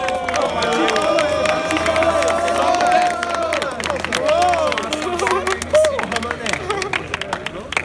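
A crowd at a Brazilian freestyle rap battle final claps and cheers steadily throughout, a dense, lively roar with scattered shouts and chanting voices mixed in.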